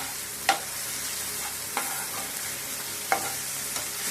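Onion and tomato sautéing in a pan before prawns go in for a Nellore-style prawn and raw mango thokku: a soft, steady sizzle with a few sharp spatula knocks spaced through it, near and unaccompanied by voices.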